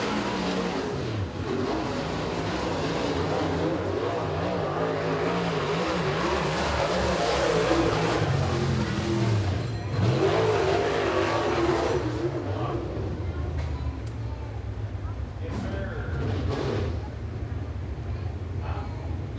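A super late model race car runs a qualifying lap at Eriez Speedway, its engine roaring loud and steady before fading and swelling again as it circles, with an announcer talking over it throughout.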